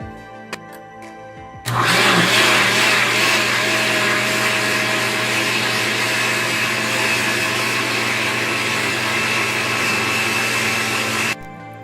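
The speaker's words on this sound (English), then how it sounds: "we need to blend it in a smooth paste in the blender or grinder" A blender switches on and grinds loudly and steadily for about ten seconds, then cuts off, with a few small clicks before it starts, blending gravy ingredients into a smooth paste for methi matar malai.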